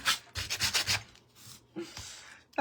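Hand sanding the surface of a printable canvas bunny sign, several quick scratchy rubbing strokes in a rhythmic burst, then a pause and a few more short strokes, close and clear.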